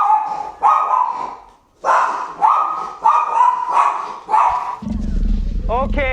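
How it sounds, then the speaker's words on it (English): A dog barks repeatedly in a room, a run of about six loud, close barks in an uneven rhythm, followed by a brief rustle and a low rumble at the end. "Okay, who brought the dog?"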